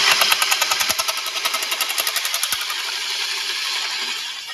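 Soviet-era metal shears from the 1960s–70s cut thin sheet metal up to 2.5 mm, a fast rhythmic chattering clatter of repeated bites running steadily without talk.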